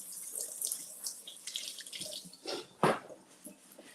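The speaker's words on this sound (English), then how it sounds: "let me wash my hands first." A kitchen faucet runs steadily as hands are washed, the water splashing and gurgling with one louder splash near the end; close and alone, with no talking.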